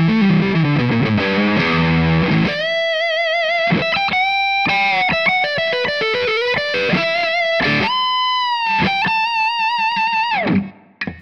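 Electric guitar played on the neck pickup through a Tonex model of a Suhr Badger amp, giving a heavily distorted, saturated tone: dense strummed chords at first, then sustained single-note lead lines with held, singing notes, loud and alone.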